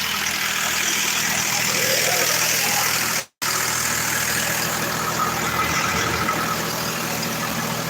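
A generator in Punjab farm fields runs steadily to power water pumps for drying crops after storm damage to power poles, a continuous loud engine drone with a brief dropout midway.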